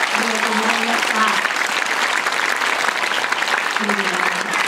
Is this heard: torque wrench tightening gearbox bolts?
no